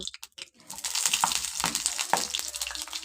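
Eggplant chops (begun chop) fry in hot oil and are flipped, giving a crackling sizzle broken by a few scraping, splashing turns near the start, then a steady bubbling fry.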